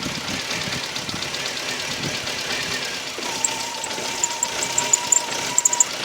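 A Volkswagen Golf or Polo engine with Mono-Motronic MP9 fuel injection, over-fuelling, idles steadily with a low rumbling chug, joined midway by a thin whine and a few sharp clicks near the end.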